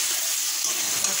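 Soya chunks frying in a spice paste in a pan, a steady close sizzle with a soft crackle throughout, loud and continuous with no talking.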